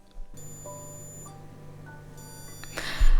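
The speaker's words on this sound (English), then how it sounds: "it just suddenly started beeping" A Tamagotchi Umino virtual pet beeps with steady electronic tones that hold and shift pitch in a few stepped layers, clear and close, before a brief noisy rustle at the end.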